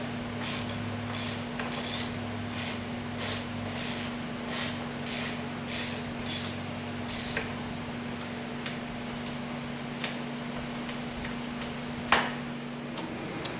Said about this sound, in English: Now we're going to start removing the recoil and taking some of the head bolts out.